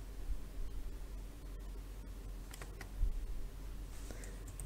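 Keys on a computer keyboard are tapped in quick, light clicks over a soft background hiss, with a few louder taps near the end; no talking.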